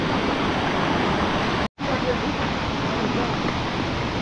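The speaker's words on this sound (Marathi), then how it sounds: "जसा हा झरा पावसामध्ये वाहतो आहे" A stream swollen by monsoon rain pours steadily near a lake, a dense continuous rush of water that stays loud throughout, broken only by one brief cut near the middle.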